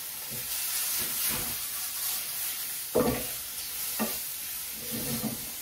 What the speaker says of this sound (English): I'm gonna add some garlic that I've minced up already, and I don't want that to burn, so I'm just gonna let that cook for maybe about a minute